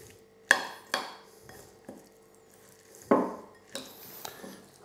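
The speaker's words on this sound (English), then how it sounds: "I'm just going to give that a little bit of a stir." Spoon scraping and knocking against a pan while chilli and ginger sauce is stirred, a handful of distinct clinks spaced irregularly, fairly quiet and close.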